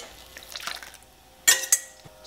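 Milk and vegetable oil are poured from a container into a bowl of dry cornbread ingredients, starting with a soft liquid trickle and ending in two sharp clinks of the container against the bowl.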